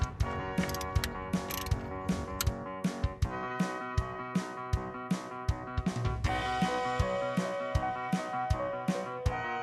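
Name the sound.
tightening bolts on a Jeep Cherokee idle pulley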